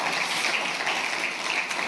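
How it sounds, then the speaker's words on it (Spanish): A crowd at a pastors' retreat claps steadily, a dense, continuous patter of applause at moderate volume with no voices over it. "Denle un aplauso al Rey bendito."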